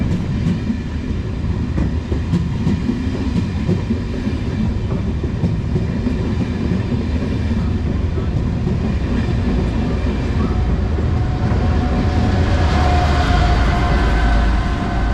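An Irish Rail Cork to Dublin Heuston train, with a 201 class locomotive at the rear, passes non-stop through a station, a loud steady rumble and rattle of wheels on rails that swells near the end.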